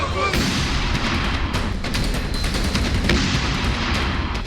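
Heavy artillery fire and explosions in the Ukraine war, a dense, continuous roar of booms and blasts with sharp cracks breaking through, loud and close throughout.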